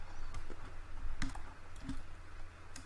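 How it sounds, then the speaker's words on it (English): Someone types on a computer keyboard while working in Blender 2.8. A few soft, irregular key clicks sit over a low steady hum, close but quiet, with no speech. "So I'm gonna press 7 on my keyboard"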